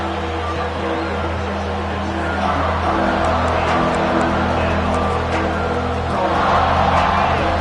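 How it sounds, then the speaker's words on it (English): Football stadium crowd at an Auburn game roars steadily during a red zone defensive stand, a dense, sustained wash of cheering that swells slightly toward the end, with announcer commentary running underneath. "And here comes the noise. This crowd is trying to inspire this defense to make a big red zone stop."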